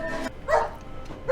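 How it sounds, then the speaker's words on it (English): Dog named Minnow barking in a 2023 film, two or three close, sharp barks in quick succession with a short whimpering yip among them. "Told you I heard that dog."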